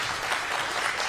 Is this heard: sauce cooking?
no